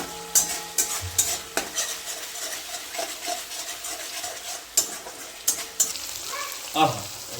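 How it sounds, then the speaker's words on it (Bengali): Prawn malai curry with chili powder and a little sugar is fried and stirred in a pan: a crisp sizzle sits beneath sharp, irregular spatula scrapes and knocks, close and prominent throughout. "এটাকে ভালো করে আমি এবার একটু কষিয়ে নেবো"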